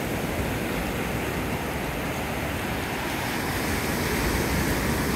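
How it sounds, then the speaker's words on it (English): Big surf breaking steadily at Navarre Beach on a calm, low-wind day, a continuous loud wash of crashing waves filling the whole clip with no voices. "Waves are still big."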